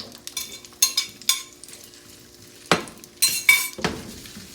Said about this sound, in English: I can hear it sizzle, so we're going to slide our potatoes in here.